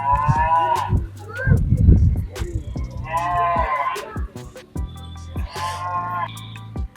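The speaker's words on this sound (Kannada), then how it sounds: "ನೋಡಿಲಿ ಹಸು ಎಲ್ಲ ಮೇಯ್ತಾ ಇದೆ" Cows grazing in a village-themed garden give several long, drawn-out moos in turn. The calls are close and clear over light outdoor background noise, with short gaps between them.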